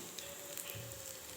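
Small chilli bajjis frying in hot oil in a kadai, a steady soft sizzle and crackle that goes on quietly without a break.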